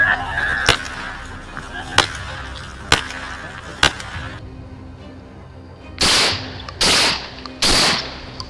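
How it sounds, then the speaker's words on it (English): Gunshots during a wild boar hunt: a series of sharp, loud cracks at roughly one-second intervals, followed after a short pause by three louder, broader blasts, with no talking. "A deafening gunshot tore through the silence."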